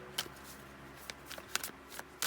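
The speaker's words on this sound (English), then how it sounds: "You can fast forward through the shuffling if you don't like waiting." Tarot cards being shuffled by hand, a few quick papery riffles and soft flicks spread across a couple of seconds, close and fairly quiet with no voices.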